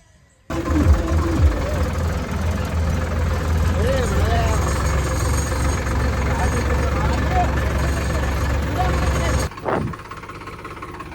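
A Solis tractor engine runs steadily and loud at close range for about nine seconds, a low continuous idle-like rumble with a knocking texture, then cuts off sharply near the end.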